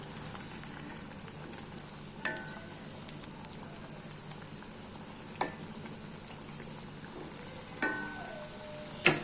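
Masala vadai fry in oil in a pan on low heat, giving a soft, steady sizzle with scattered crackles and pops, close by, with no talking.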